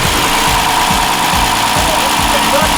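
A car engine idles with a steady low, pulsing rumble, close and continuous for a few seconds.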